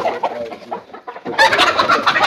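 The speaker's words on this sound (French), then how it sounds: "Ensuite, à ce niveau, nous avons les poulets brahma." Brahma chickens on a village farm in Cameroon, several birds clucking and squawking up close, with soft scattered clucks first and then a louder, busier burst of overlapping calls.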